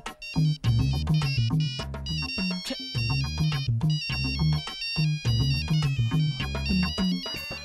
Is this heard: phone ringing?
yes